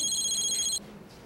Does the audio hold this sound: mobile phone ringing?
yes